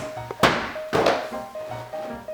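Nerf blaster being loaded with darts, two sharp plastic thunks about half a second apart followed by softer clicks and rattles, close and loud with no talking.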